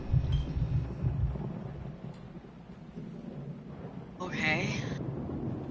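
A thunderstorm rumbles through the horror game Layers of Fear, a low, steady roll of thunder and rain running the whole way, with a brighter swell near the end and a person talking over it.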